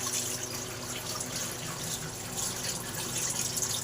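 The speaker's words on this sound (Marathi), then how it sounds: "आता बघा हे तिसऱ्या वेळी मी पाणी काढून घेते" Water used to wash ration rice for idli and dosa batter is poured off, giving a steady, moderately loud splashing trickle with no talk.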